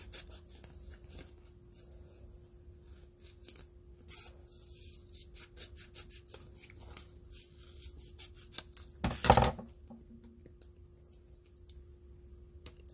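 Scissors snip out a decal made from sublimated clear vinyl, giving a quiet, close series of rhythmic small cutting clicks and rustles of the vinyl sheet, with one louder crinkling handling noise near the end and no speech.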